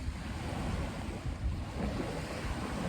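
Ocean waves wash onto a secluded stretch of Virginia Key beach in Miami, a steady, close roar of surf mixed with wind buffeting the microphone, with no voices.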